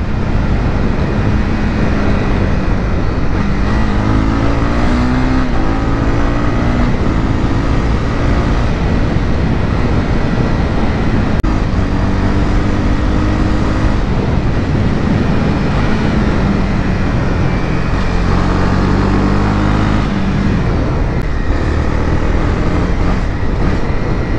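Honda CB300R motorcycle engine heard on the move, a steady loud drone with rising and falling revs across the ride and constant wind rush, no voices.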